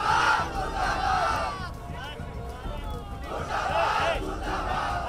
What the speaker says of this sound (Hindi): मुर्दाबाद के नारे लगाए जा रहे हैं।